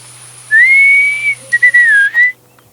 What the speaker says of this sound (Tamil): ஒரு விசில் சத்தத்தையும் கேட்டாங்க